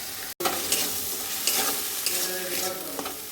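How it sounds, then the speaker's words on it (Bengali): Ground spice paste with salt, turmeric and Kashmiri chilli powder sizzles and crackles steadily in hot oil for a chana masala, a close, continuous frying hiss with a brief dropout near the start. "সেই মশলাটা এবার গরম তেলে দিয়ে দেবো।"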